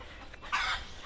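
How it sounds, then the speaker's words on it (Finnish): A brown hen in a front yard gives a short, close cluck over quiet background noise, with no talking. "sielläpä etupihalla kaakattaakin yksi kana"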